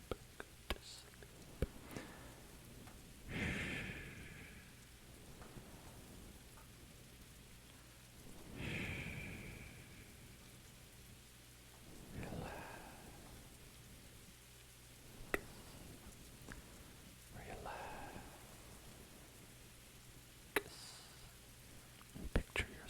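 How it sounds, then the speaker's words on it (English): Steady patter of rain on a car at night, a soft continuous wash with a few louder swells and gentle rumbles, heard from inside the vehicle under occasional quiet whispering. "picture yourself in the back of a car on a rainy night"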